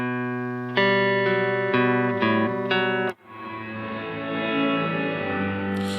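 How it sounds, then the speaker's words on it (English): A Strymon NightSky reverb pedal plays only its wet reverb signal: a few sustained, pitched, echoing notes give way to a long, shimmering ambient wash that slowly fades. "So you're only hearing the reverb, you're not hearing the dry signal."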